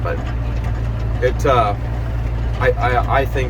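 A steady, low tractor engine rumble idles underneath throughout, the tractor pulling tillage equipment through bean ground, while someone talks over it.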